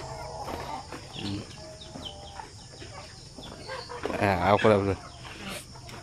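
Chickens in a backyard poultry pen cluck and squawk sporadically near the listener, with one louder flurry of calls, while someone talks over them.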